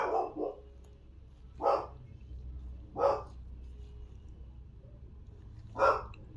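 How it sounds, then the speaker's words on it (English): A dog indoors barks at noises, giving five sharp barks: a quick double bark, then three single barks spaced a second or more apart, moderately near over a low steady hum. "There is my dog barking at noises."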